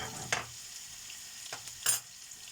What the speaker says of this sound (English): You see how I'm mixing it?